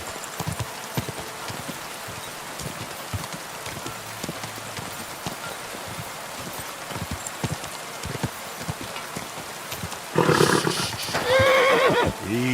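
A horse in the video game Kingdom Come: Deliverance II clip-clops with steady hoofbeats over rain, then gives a loud neigh near the end.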